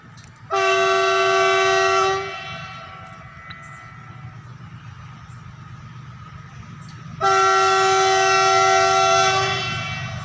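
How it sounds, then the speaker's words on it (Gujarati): A train horn blares in two long, loud blasts separated by a pause, with the rumble of a passing electric train at a closed level crossing continuing underneath. "ઇલેક્ટ્રિક રેલ શરૂ થઈ છે તે જે આવે છે તમને બતાવીએ"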